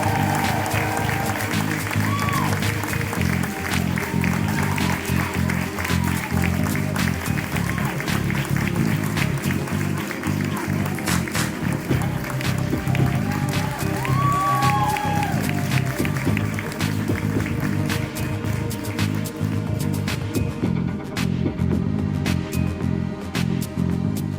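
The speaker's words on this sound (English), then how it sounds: "Give a huge round of applause to Melissa Yannon." An audience at a high school fashion show applauds steadily and loudly for a long stretch, dense clapping with scattered cheers and voices mixed in.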